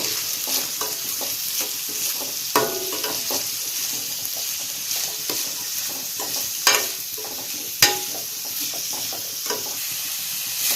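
Beetroot and onions are stirred in a hot pan, with a steady sizzle of frying underneath and scraping strokes of the spoon coming through at irregular intervals, close and alone.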